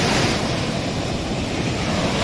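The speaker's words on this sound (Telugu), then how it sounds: "చూడండి, కెరటం అవుతుంది కదా" Ocean surf at Gangavaram Beach in Vizag, a steady, loud wash of breaking waves with wind rumble over the microphone and no voices throughout.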